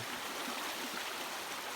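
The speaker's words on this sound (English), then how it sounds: "This was a surprisingly difficult little river crossing." Steady rushing and bubbling of a small river flowing nearby on the Appalachian Trail in Maine's 100 Mile Wilderness, continuous and fairly soft, with no voices.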